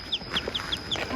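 Chickens clucking in short repeated bursts at a mountain village home, several close clucks in quick succession with no talk over them.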